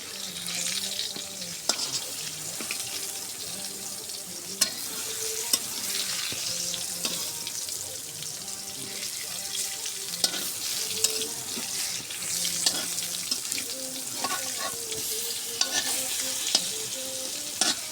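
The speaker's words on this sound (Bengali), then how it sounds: "আমি হালকা হালকা জালে বেগুনগুলো ভাজে নিচ্ছি।" Eggplant slices fry gently in oil over low heat in a home kitchen, a steady soft sizzle running throughout with occasional clinks and scrapes as pieces are turned, and faint background hum.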